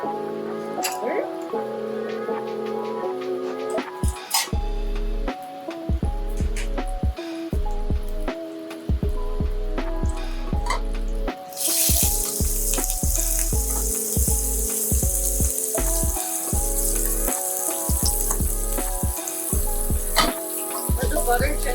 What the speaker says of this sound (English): Let the butter gently melt and foam up.